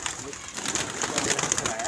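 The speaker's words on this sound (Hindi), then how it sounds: "ये देखें जी क्या कबूतर है माशाल्लाह।" Soft, throaty cooing from a pigeon at a pigeon club repeats in low rolling phrases while a person talks nearby.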